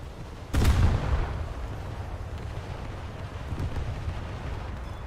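A heavy, booming impact bursts out once in a naval warfare game, as a torpedo strikes a ship, then leaves a long rumbling low roar with wind-like noise that lingers for several seconds, with no voices.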